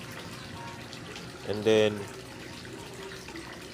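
Fresh water splashes briefly into a goldfish breeding container holding sticky eggs, a short half-second pour heard under a man's speech.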